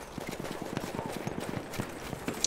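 Rapid clip-clop of a mountain horse's hooves in a video game, a quick, regular galloping rhythm that sounds close and continuous with a faint background hiss.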